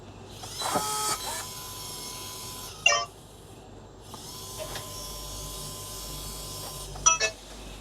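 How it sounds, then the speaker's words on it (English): Yale Linus L1 smart door lock running its motor in two bursts of mechanical whirring, each a few seconds long, broken by clicks and a beep-like tone, close and fairly quiet, with no talking. "And see the noise on Yale."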